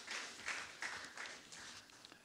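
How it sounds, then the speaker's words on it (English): A conference audience applauds at the opening plenary session of a policy dialogue, a steady wash of many hands clapping that continues for a couple of seconds at moderate distance. "kindly give Her Excellency a very, very warm round of applause"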